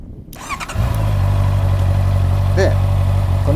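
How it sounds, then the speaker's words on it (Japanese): A motorcycle engine cranks and catches in neutral, then settles into a steady, close idle rumble, with a brief voice and a faint chirp partway through. "エンジンかけといて"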